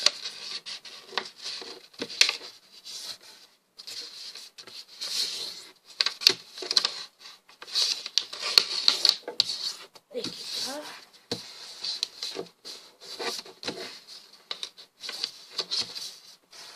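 Paper being creased and folded by hand into an origami box, soft crinkling pats and rustles in irregular bursts at close range, with a voice talking intermittently underneath.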